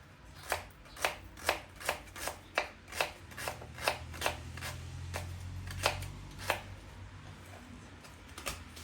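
A knife chopping through paneer on a cutting board in a home kitchen, a quick even series of about fifteen crisp close taps with no talking.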